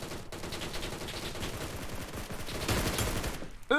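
Gunfire in the mobile battle royale game PUBG New State, a dense run of rapid shots with a louder burst near the end, alone without talk.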